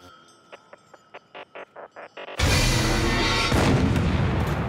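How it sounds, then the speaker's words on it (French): In the anime Attack on Titan, after a series of short ticking beats, a single loud cannon blast erupts and rolls into a long, heavy rumbling echo. "Un coup de canon!"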